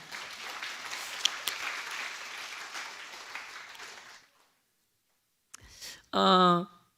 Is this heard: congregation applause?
yes